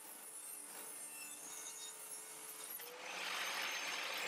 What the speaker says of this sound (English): You simply set up a stop block for a very narrow rip and then keep adjusting the fence as needed.